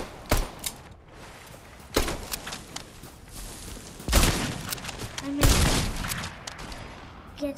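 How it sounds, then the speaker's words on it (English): Gunfire in the Fortnite video game, with several sharp shots and bursts scattered across the clip at varying loudness, some close and punchy, others lighter. "Somebody shooting at you, dude."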